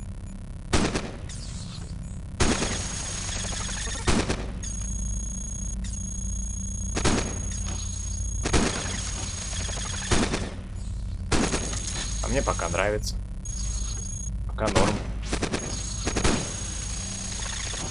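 Gunfire from a gun in the sci-fi robot game Cogmind comes as repeated sharp, loud bursts every second or two, layered over a steady electronic drone, with someone talking briefly.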